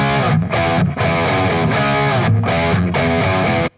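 The opening riff of a song is played on a heavily distorted electric guitar, a loud, thick, sustained chug with a few brief gaps between phrases.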